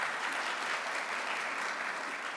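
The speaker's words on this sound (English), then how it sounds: "yes, you can clap for that." Audience clapping during a county State of the County address, a steady diffuse patter of many hands heard from a distance, moderately quiet and unbroken, without speech.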